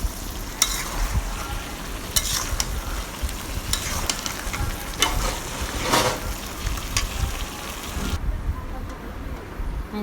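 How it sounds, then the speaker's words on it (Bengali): Hilsa fish curry sizzles and fries in a pan while a spoon stirs and scrapes, giving a steady crackle broken by sharp clinks, with the frying noise dropping away near the end. "এখন আমি ঢেকে কষিয়ে নেব ভালো করে তরকারিটাকে।"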